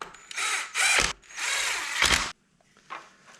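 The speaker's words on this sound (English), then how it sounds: "now we're gonna do those 2 screws as well, which are also the T10s" A power driver fastens T10 Torx screws on a Chevrolet Tahoe touch screen assembly, running in several short, loud whirring bursts separated by brief pauses, close up and with no voices.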